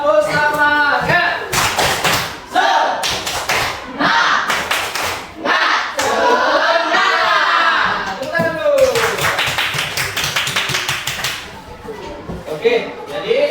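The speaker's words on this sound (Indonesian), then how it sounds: "Tepuk semangat." A class of students performs a rhythmic spirit clap, sharp bursts of group clapping in a patterned beat mixed with loud chanting voices, with short pauses between phrases.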